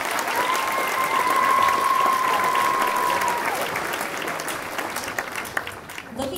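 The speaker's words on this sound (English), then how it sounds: "Can we please give the girls and Reese another big round of applause?" A crowd in a hall at a youth scholarship program applauds a group of girls with loud, full clapping that thins toward the end, while a steady tone, likely audio feedback, rings above it.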